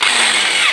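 A power drill whines in one short, steady burst as it bores into the rivets holding a license plate bracket on a Mercedes-Benz W124, loud and close before cutting off.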